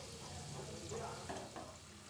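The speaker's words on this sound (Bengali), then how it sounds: "এবার আমি স্ন্যাক্সগুলোকে খুব ভালোভাবে ভেজে নেব" Chicken and potato snacks deep-frying in hot oil, a quiet, steady bubbling hiss with a few slightly louder crackling bursts over about two seconds.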